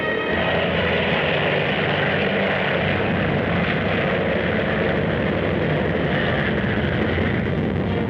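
A super speedy Army propeller fighter plane flies past, a loud, continuous droning roar of engine and airscrew that stays steady throughout and sits close with no talk over it.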